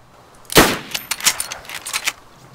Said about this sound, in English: someone's shooting at you, get down